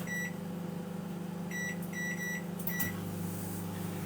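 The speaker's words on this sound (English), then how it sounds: "I'm going to pop that into the microwave for about 9 minutes." A 900-watt microwave oven being set and started for about nine minutes, with several short electronic keypad beeps in two clusters, then the hum of the running oven steadily underneath.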